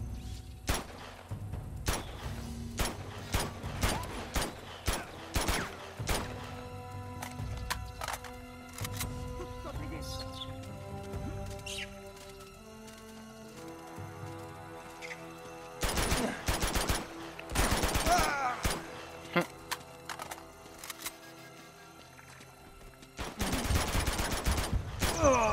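Bursts of gunfire in the video game Uncharted 2, played on hard difficulty in chapter 3. Sharp volleys come in two dense clusters over a backdrop of game music and scattered impacts. Brief voices talk between the volleys.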